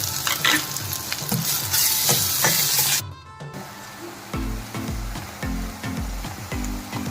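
Dried anchovies and raw mango pieces fry in a pan: a loud, dense sizzle, then a brief dip and rhythmic scraping stirs clunking against the pan over continued frying.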